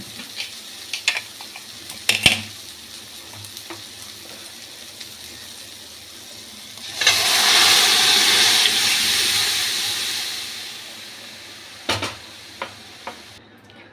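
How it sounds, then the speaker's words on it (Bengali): Chana dal poured into a hot spiced pan in a home kitchen: a few clinks and taps, then a burst of hissing, bubbling liquid that swells and slowly fades, followed by more utensil knocks. "এবার ওই ডালটা এর ভেতরে ঢেলে দেবো হ্যাঁ ফুটবে ডালটা"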